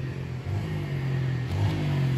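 A motorcycle pulls away near a traffic light, its engine a steady mid-pitched drone that rises slightly near the end, with a faint clatter and no voices.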